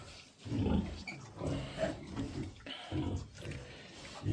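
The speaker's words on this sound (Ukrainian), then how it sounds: "ось такі у нас поросятки." Large White and Landrace crossbreed piglets grunt and squeal close by in a busy, overlapping chorus, with soft snuffling between bursts and no clear talk.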